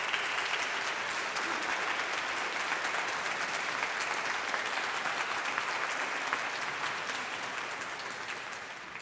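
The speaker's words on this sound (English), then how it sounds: "I'd like to give them a round of applause." A large audience at a graduation ceremony applauds continuously, a dense, even wash of many hands heard from a little distance in a big hall, holding steady for several seconds before easing slightly.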